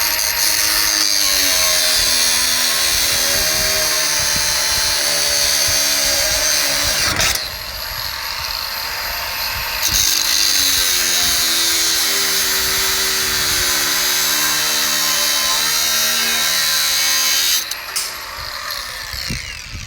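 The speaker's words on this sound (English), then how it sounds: "Make sure you wear hand and eye protection when using a grinder or any other tool like that, unlike what I just did." An angle grinder cuts off the leftover shaft of a Rheem condenser fan motor, a loud, continuous high-pitched whine with metallic grinding, briefly dipping and changing pitch twice as the disc bites, with no speech.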